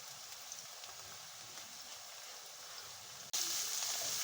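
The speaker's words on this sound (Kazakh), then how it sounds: "Мінекей пиязымыз қуырылып жатыр." Steady sizzling hiss of onions frying in a pan, continuous and fairly close, growing slightly louder near the end.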